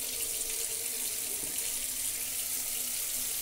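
Tap water runs steadily as brass is soaked and rinsed, a continuous, fairly loud gush of splashing water with no voices.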